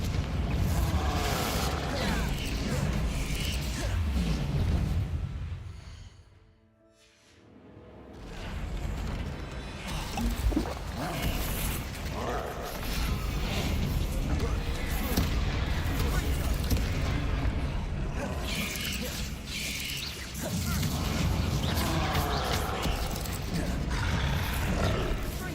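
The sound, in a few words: Confringo spell blasts against a troll in Hogwarts Legacy video game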